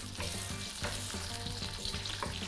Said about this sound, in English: give that a little bit of a sizzle